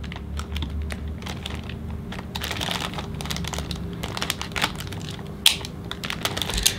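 The polythene packaging of a Gigabyte motherboard is pulled open, making close, crackling crinkles and sharp rustles in irregular bursts with no talk over them.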